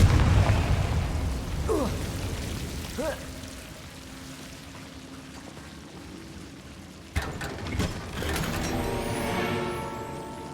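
In Hogwarts Legacy, spell blasts go off: a booming impact at the start, then swooshing casts, and later a crackling, rumbling burst of debris that rings on under a faint game backdrop.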